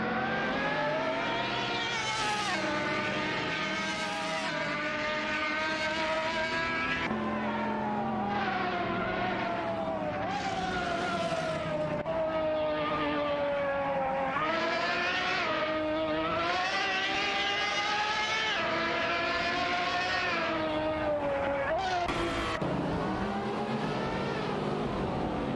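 Race cars in a video game, including a Lamborghini Huracan and a GTA Spano, roar continuously with rising and falling engine pitch as they shift gears and jostle for position.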